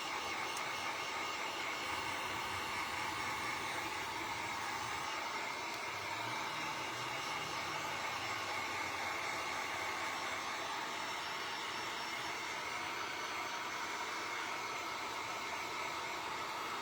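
A hair dryer blowing steadily to dry paint on Valentine's piggy crafts, a continuous airy whir heard close up from start to finish.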